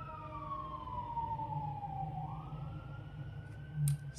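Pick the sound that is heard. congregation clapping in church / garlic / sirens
sirens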